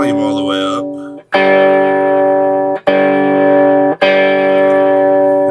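Electric guitar played through a Peacock pedal with gain turned fully down and volume fully up, used as a clean buffer: three loud, sustained chords ring out in turn, each cut off briefly, after a short voice at the start.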